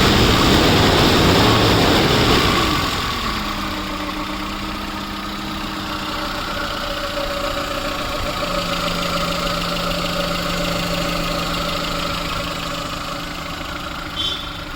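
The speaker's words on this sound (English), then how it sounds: "starting the vehicle and just showing you the engine noise of the vehicle" A 2011 Maruti Gypsy King 413 petrol MPFI engine settles into a steady, smooth idle after a loud initial rev, a close, continuous low hum with a faint tick near the end.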